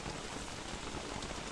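Steady, even rain hisses and patters in the game Don't Starve Together, a continuous close wash of drops with no breaks.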